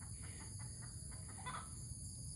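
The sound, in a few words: chicken clucking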